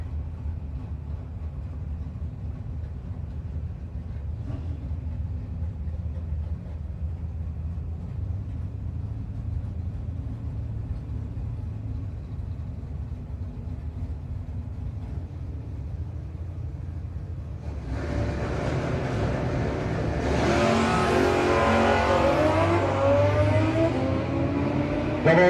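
At a no-box 660 drag racing shootout, a low idling rumble hangs for a long stretch before a car and a motorcycle launch, bursting into a loud, rising roar of engines near the end.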